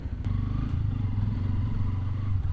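A Bajaj Pulsar N160 motorcycle idles with a low, throbbing engine note while its loose front fender rattles and clatters, close by and brief, with a sharp click near the start.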